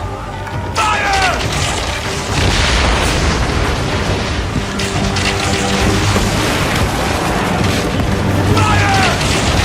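Ship cannons fire repeatedly during a naval battle in Assassin's Creed Origins, loud booming blasts and crashes over continuous battle noise, with shouted commands heard throughout.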